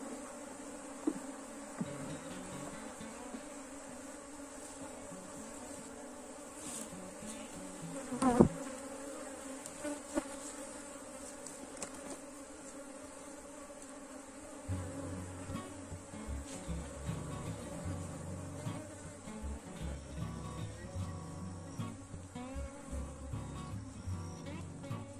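Honeybees buzz steadily around an open hive during a colony split, a dense continuous drone with occasional individual bees passing close, growing fuller and louder halfway through, with no talking.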